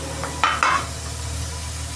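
Sliced ridge gourd and onion fry in hot oil in a pan, a soft sizzle with two sharp scraping stirs near the start, close and fairly loud.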